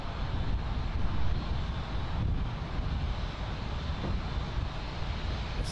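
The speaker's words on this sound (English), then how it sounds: "And we have the 737 lining up here" A Boeing 737 lines up on runway 9 at Miami International Airport, its engines giving a steady distant roar mixed with wind rumbling across the microphone.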